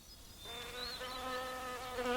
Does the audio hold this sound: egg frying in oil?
no